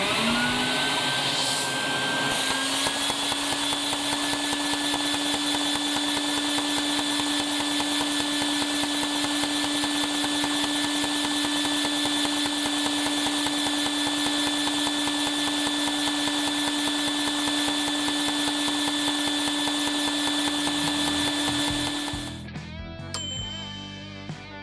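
A LEGO-built Briggs & Stratton style engine, vacuum-modded, runs steadily for about twenty seconds with a steady whirring drone and a high whine, close and continuous, before abruptly cutting off near the end.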